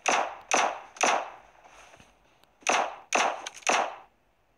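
Gunshots in the video game PUBG, six sharp cracks in two clusters with a pause between, crisp and fairly close, heard alone without talk.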